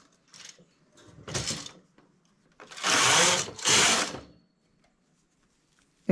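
A knitting machine works as knitted wool is taken off it: a short clatter, then two long loud carriage sweeps back to back, separated by near silence with small mechanical clicks.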